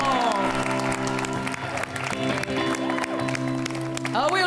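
Audience clapping at a live improv match, loud and continuous, mixed with upbeat music playing over the applause and a brief rising sound at the end.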